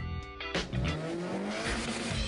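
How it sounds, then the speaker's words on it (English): A prototype car on a 3.2 km tyre test circuit, driven at high speed, roars past loudly with a rising engine note and tyre noise that then holds steady. "Whizzing about at breakneck speed, the prototype is put under severe stress to simulate race conditions."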